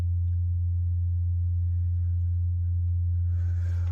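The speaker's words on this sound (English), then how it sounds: "We have that that humming from the refrigerant lines, and it's really bad right here." Vibrating HVAC refrigerant lines, clamped down too tightly in a garage, give off a steady, loud low-pitched hum that runs unbroken throughout, with faint rustling near the end.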